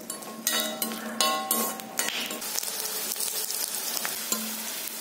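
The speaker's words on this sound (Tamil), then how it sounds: "அதில் உரிச்சு வச்சுருக்க ஒரு கப் அளவு பூண்டு சேர்த்து நல்லா வதக்கிக்கலாம்." Peeled garlic, about a cupful, sautéing in hot oil in a kadai, with a steady close sizzle and the scrape and clatter of a spoon stirring against the pan, bright knocks at the start easing into continuous frying.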